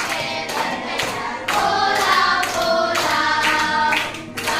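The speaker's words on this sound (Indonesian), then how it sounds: "Boleh sambil tepuk tangan?" A group claps along in rhythm to an Indonesian children's song, steady hand claps mixed with sung voices and accompaniment, close and fairly loud throughout.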